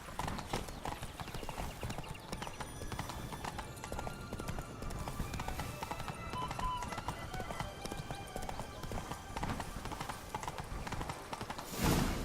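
Roach, Geralt's horse in The Witcher 3: Blood and Wine, gallops with a fast, continuous clip-clop of hooves, and a brief louder burst near the end.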